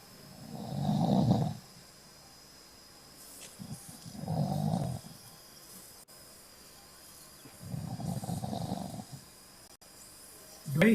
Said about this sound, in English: Do I hear a snoring sound?